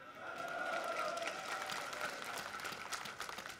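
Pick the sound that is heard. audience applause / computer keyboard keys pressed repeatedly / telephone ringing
audience applause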